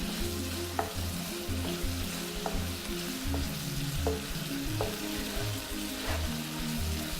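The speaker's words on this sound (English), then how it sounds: "now my chicken's busy browning, and I'm going to add my garlic" Chicken and grated fresh garlic brown in a pan with a steady, moderate sizzle, while a few light utensil taps and stirring knocks recur through it.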